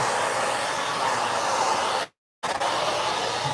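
A loud, steady broadband whoosh of a vacuum cleaner running nearby during mobile car detailing, briefly cutting to silence before resuming.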